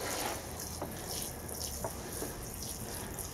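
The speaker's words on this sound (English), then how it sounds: "All that's left is to give them a watering." Water pours steadily from a can over newly planted seedling cups on an allotment, a continuous close splashing trickle with a few brief drips standing out.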